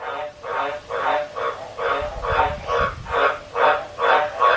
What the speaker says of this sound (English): That's the frog.